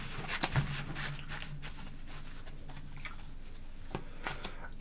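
Tarot cards being shuffled close by, a series of papery riffles and soft flicks in irregular bursts with a faint hum underneath.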